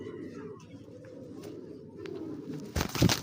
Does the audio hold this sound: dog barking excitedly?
no